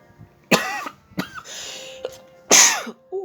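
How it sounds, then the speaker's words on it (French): A woman coughs in a quiet indoor room during a cross-stitch session: several close, harsh bursts, with a throat-clearing sound between them and no talking. "Je recommence à tousser."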